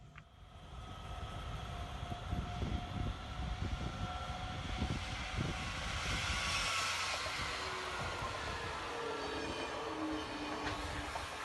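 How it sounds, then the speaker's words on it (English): A model railway local train rolls steadily past at moderate distance, wheels clattering with faint high squeals, a continuous rumble lasting the whole stretch. "A local train from Drambo Works also passes"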